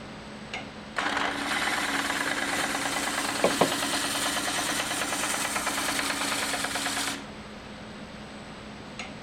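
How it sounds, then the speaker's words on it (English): A wood lathe spins a stave drum shell while a roughing gouge cuts it, giving a steady whirring, rattling hum that starts up abruptly, runs for about six seconds and then stops. "let's start it up again and take more off of it with the roughing gouge"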